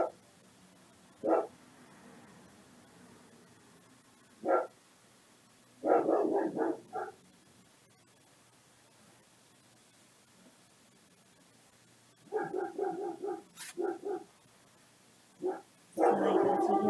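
Dogs barking in short separate bursts, single barks and quick clusters of several, spread across a quiet indoor background with long pauses between them.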